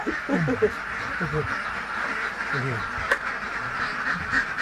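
A flock of ducks on a salted-egg duck farm in Brebes quacks in nasal, repeated calls, some close and some farther off, over a steady background hum, while people talk nearby.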